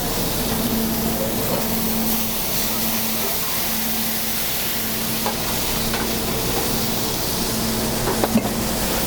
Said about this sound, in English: Now we're going to take it away from the fire and add some brandy and flambe it.